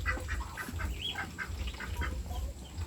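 Muscovy ducks on a small farm make a run of raspy, breathy hisses and soft honking calls close by, several birds overlapping in short bursts with no talk.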